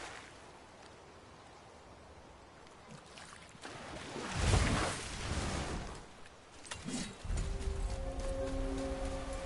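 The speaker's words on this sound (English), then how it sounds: "I've never seen a waterfall so big." A huge waterfall in God of War (2018) gives a steady, rushing roar that swells to a peak midway, then settles as soft musical tones come in near the end.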